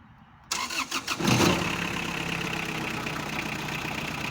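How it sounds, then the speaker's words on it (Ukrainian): A Kubota GT-3 mini tractor engine cranks with a few quick stuttering turns, catches, and settles into a steady idle, heard close with no talk. "Спробуємо його завести"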